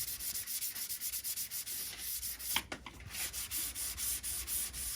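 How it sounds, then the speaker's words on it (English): Someone hand-sands the edge of a van flare with 220-grit sandpaper, producing a close, rhythmic rasping of quick back-and-forth strokes that carries on steadily, with a brief bump partway through. "we're just gonna go around the edge and sand it all the way."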